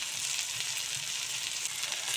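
Chopped onion with grated ginger and garlic paste fries in hot oil, a steady, soft crackling sizzle that stays even and close for the whole stretch, with no voices.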